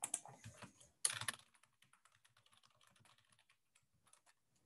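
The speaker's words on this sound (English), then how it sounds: "As you can hear me furiously typing away on my keyboard." Rapid computer keyboard typing, a dense clatter of keys at first, then lighter scattered taps continuing quietly.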